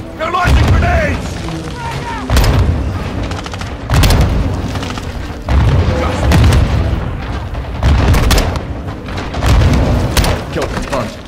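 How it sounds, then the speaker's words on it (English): Enemy grenade launcher rounds explode repeatedly in a Modern Warfare II campaign firefight, heavy booming blasts landing roughly every one to two seconds at close range, with shouted voices breaking through between impacts. "They're launching grenades!"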